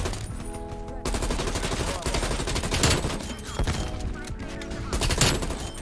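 Dense, continuous automatic rifle fire from an XM4 in the Call of Duty Cold War video game, loud sustained bursts with brief pauses running the whole stretch, layered with game music and effects.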